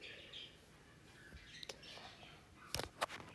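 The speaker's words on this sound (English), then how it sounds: "these birds that I have in my house are so annoying." Pet birds chirping inside a house, a few faint, scattered high tweets over quiet room tone, with a couple of sharper, louder calls near the end.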